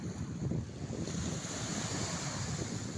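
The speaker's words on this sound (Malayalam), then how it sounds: "നല്ല ശാന്തമായിട്ടുള്ള തിരമാലയാണ്." Calm sea waves washing against a Kerala shore where a fishing boat lands, a soft steady surf wash blended with light wind noise on the microphone, no voices.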